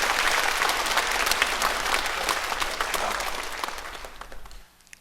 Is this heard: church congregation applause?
yes